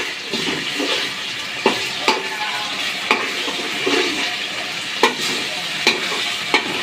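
Bay leaves and chilies frying in hot oil, a steady broad sizzle with sharp clacks of a spoon stirring against the pan every second or so, close and fairly loud, with no talking.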